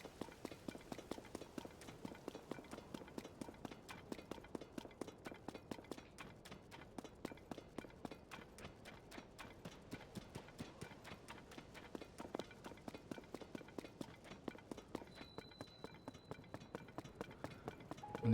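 Steady galloping hooves of a horse in the Zelda Tears of the Kingdom video game, a fast, even clip-clop rhythm running throughout with faint voices underneath.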